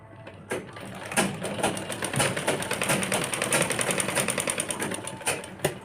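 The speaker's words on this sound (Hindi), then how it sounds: "इस तरह से यहाँ पे 2-3 सिलाई लगा लेंगे" A sewing machine stitching fabric while a kurti is being sewn: a fast, even mechanical chatter of needle strokes running continuously, starting and stopping briefly near the beginning and end.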